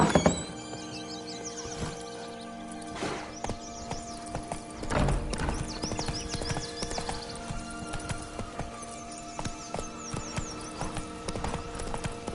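Roach the horse gallops in The Witcher 3, hooves clopping in quick rhythmic beats under game music and ambient sound, with a brief whinny and some clunks, no speech.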